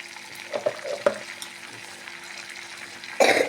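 Ground herbal paste poured into hot homemade hair oil in a pan, a soft close sizzle with small pops, rising into a louder burst of frying near the end, no talk.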